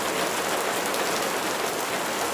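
Rain falls steadily as a sound effect in a spoken story, a dense unbroken hiss of drops on a surface with no pauses or voices.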